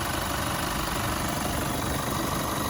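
A 2019 GMC Canyon SLE 4x4 with its 2.8 Duramax diesel idles steadily up close, a constant low rumble with a faint knocking clatter and no pauses.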